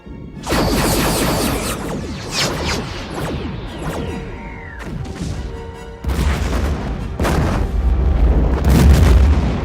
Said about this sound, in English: Here we see 4 quantum torpedoes destroying a 600-meter wide Borg sphere.